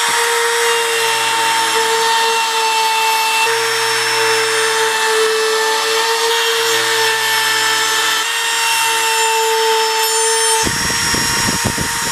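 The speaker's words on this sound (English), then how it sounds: "So then we'll sand it." A loud electric sander whines steadily against a small wooden mallet, holding a constant pitch before a brief rough scraping near the end.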